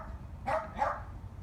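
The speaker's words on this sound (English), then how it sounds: "got to compete with the neighbor dogs. They want to be on the video too." Two quick barks from neighboring dogs, fairly distant and soft against low background rumble, with no one speaking.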